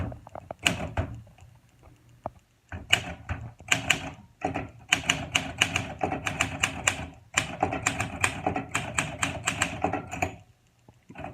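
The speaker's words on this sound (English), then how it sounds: "Alright, do some typing." Rapid clacking of a 1958 Olympia SM3 Deluxe manual typewriter, bursts of keystrokes with short pauses between, close and crisp with occasional heavier thunks.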